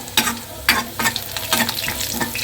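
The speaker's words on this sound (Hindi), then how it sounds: "जीरा और साबुत लाल मिर्च का तड़का।" Cumin seeds and whole dried red chillies crackle and sizzle in hot oil for a dal tempering, with repeated stirring scrapes over a steady frying hiss, close and fairly loud.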